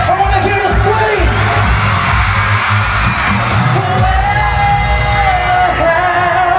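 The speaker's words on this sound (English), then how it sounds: "I want to hear you scream!" Dense, loud roar of a festival crowd at a live show in Guimbal, Iloilo, screaming and yelling nonstop over a thumping music beat, with a performer's amplified voice calling out above the noise.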